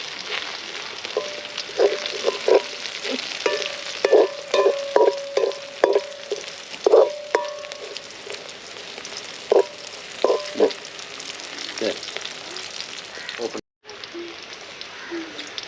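Onions sautéing in a pan for Jaffna-style liver fry, a soft continuous sizzle under a person talking, with repeated clinks and scrapes of a spoon stirring throughout.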